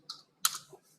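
Keys tapped on a computer keyboard while entering a radius command in CAD software: a short cluster of crisp clicks, then a louder burst of keystrokes, close and clear with no talking.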